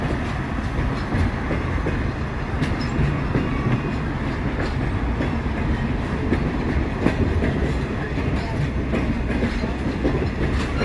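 Western Maryland Scenic Railway passenger train, pulled by a GP30 diesel locomotive, rolling steadily along the rails with continuous rumbling wheel noise and faint clickety-clack from inside the car.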